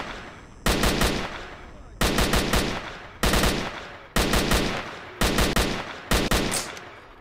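Bursts of automatic gunfire from a gun in the video game S.T.A.L.K.E.R. Shadow of Chernobyl, six loud rapid volleys of several shots each, separated by short pauses.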